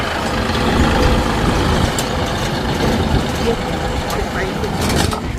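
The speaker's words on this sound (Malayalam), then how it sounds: "ട്രാക്ടർ" A loud tractor engine rumbles steadily up close at an outdoor tulip festival in the USA, with people talking over the noise.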